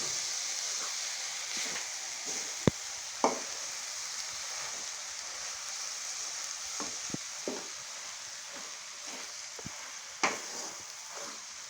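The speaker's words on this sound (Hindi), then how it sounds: "अब हम इसको अच्छी तरह हिलाएंगे ताकि तमाम अशिया हमारी हंडिया के अंदर इस तरह मिक्स हो जाए।" Bitter gourd and meat curry sizzles in a frying pot on the stove, a steady hiss broken by occasional clinks and scrapes of a spoon stirring.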